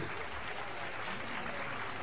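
At an orchestra show, an audience keeps up thick, unbroken applause, a uniform roar of many hands clapping at a constant level throughout.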